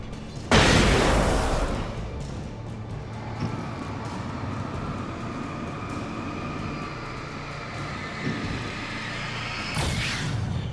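A flashbang detonates in Alan Wake with a sharp, loud burst, then a long rumbling decay and a hissing ring-out, and a second burst arrives near the end.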